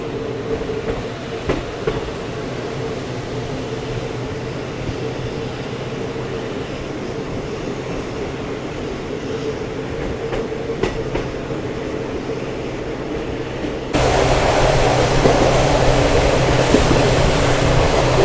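Onboard rumble of a slip service train on the Vasco Da Gama to Hyderabad weekly express gathering speed near Goa, with steady clickety-clack over the rails that grows louder and brighter near the end, no voices.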